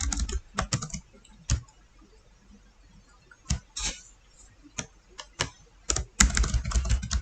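Someone types C++ code on a computer keyboard, producing sparse, irregular keystroke clicks with quiet gaps, then a quicker cluster of taps near the end.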